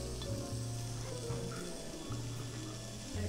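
Food sizzles on a grill in Hakone, a steady, fairly faint hiss of frying that runs throughout with no talk.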